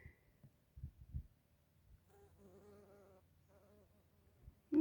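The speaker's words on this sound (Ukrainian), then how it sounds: "і чмілі, бджоли на ній є" Faint buzzing of bumblebees and honeybees hovering near flowers in August, a soft wavering drone for a couple of seconds between light thumps and rustles.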